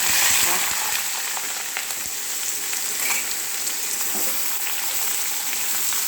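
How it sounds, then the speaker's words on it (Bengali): Young jackfruit pieces fry in hot oil with a constant close sizzle and crackle, broken by faint stirring scrapes, and no voices over the steady hiss. "কাঁঠালটা ভাজি তেলে।"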